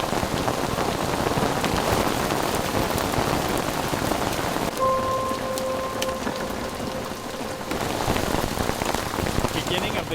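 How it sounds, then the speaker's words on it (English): Heavy rain pours down steadily on a road near the start of the Dempster Highway, a dense roar filling the whole stretch, with a faint steady tone in the middle; hail is not clearly distinguishable. "Rain, it's really coming down now. Starting to hail now too."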